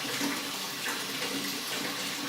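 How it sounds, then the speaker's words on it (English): A kitchen sink tap runs hot water from a new water heater in a steady, close, continuous gush with no pauses, alone and without talk. "I'm going to use the sink water"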